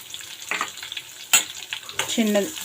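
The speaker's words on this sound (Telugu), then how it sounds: "ఒక చిన్న మీడియం సైజు ఆనియన్ కట్ చేసి వేసుకుంటున్నాను" Chopped medium onion and curry leaves frying in a pan for a potato fry, a close crackling sizzle with sharp pops and stirring scrapes.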